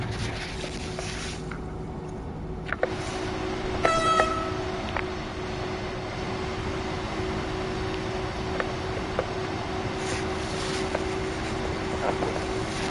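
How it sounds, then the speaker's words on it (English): An electric train in Train Sim World 4 runs along at an evening pace, a steady low rumble and drone with faint clicks and brief tonal squeals over the top, even and unhurried. "Just gonna let the train kind of run its course here."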